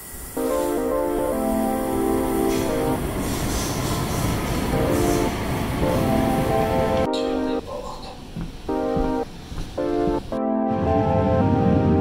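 Metro subway train in an Ottawa station, rumbling and squealing on its rails with clattering wheels and shifting tones as it moves through, loud and close.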